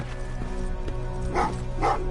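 Dogs bark in the video game Terminator: Resistance, two short barks at middle distance over a steady hum of in-game ambience.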